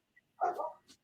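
A single short, faint dog bark, a quick muffled woof with a slight yip at the end, heard alone in a quiet room.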